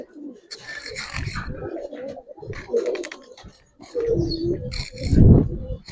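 Giribaz pigeons in a loft give several low, throaty coos in uneven bursts, close by, while people talk over and between them.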